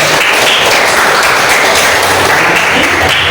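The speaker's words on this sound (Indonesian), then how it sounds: "mari kita tepuk tangan untuk kita semua yang sudah" Students clap together in a classroom at the end of a lesson, loud, close and dense applause that fills the whole stretch without a break.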